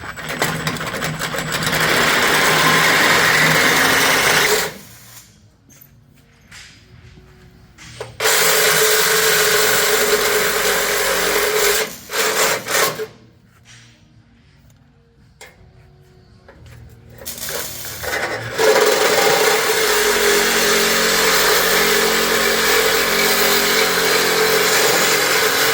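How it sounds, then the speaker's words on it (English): A Sawzall reciprocating saw cuts through a Ford Raptor R front bumper in loud, rapid buzzing bursts, with two quieter pauses and some scraping between cuts, and no talking. "So now with your safety glasses on, get your Sawzall out"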